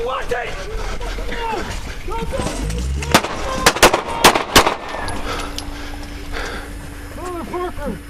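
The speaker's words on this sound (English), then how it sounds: "216 shots fired." A rapid volley of loud, close gunshots during a police confrontation with a fleeing felon, sharp cracks clustered mid-scene amid shouting voices and engine noise.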